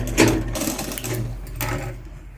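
A sewing machine stitches a churidar seam in a short steady burst, a close mechanical hum with rhythmic needle clatter that eases slightly toward the end, with no talking.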